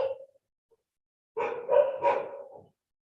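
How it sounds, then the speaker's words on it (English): Several dogs bark outside, a short bark at first, then a cluster of overlapping barks after a pause, moderately distant and with no talking. "There are so many dogs barking outside"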